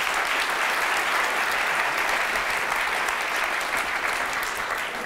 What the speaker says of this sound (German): da kann man noch mal klatschen